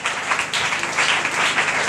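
A church congregation applauds together, a dense, steady wash of clapping that fills the space without pause and with no distinct voices.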